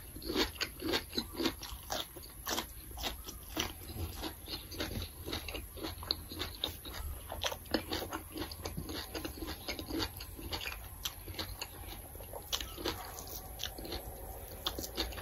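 Close-up chewing and eating of steamed fish in banana leaf with rice, wet crunchy bites and smacking in a steady, busy rhythm throughout, with no talking.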